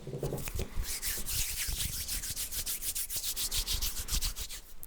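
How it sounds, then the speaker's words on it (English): Steady dry rubbing, like palms sliding back and forth against each other, with a brisk repeating rhythm, close up and alone. "I'm just going to be doing some hand sounds"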